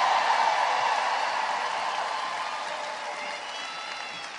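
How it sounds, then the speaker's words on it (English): Basketball arena crowd at a retirement ceremony, a broad, roaring wash of applause and crowd noise filling the space, loud at first and easing slightly toward the end with no distinct voices. "Let's give them another round of applause."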